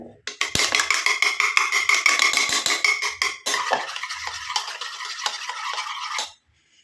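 A spoon rapidly stirs and scrapes a hair dye mixture in a bowl, a steady rhythmic clinking and scraping that runs loud and continuous, eases slightly partway through, then stops abruptly.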